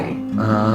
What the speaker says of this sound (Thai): ดีมันจะเสียงที่ได้ยินนี่คือเสียงเซนนะฮะกำลังเห่า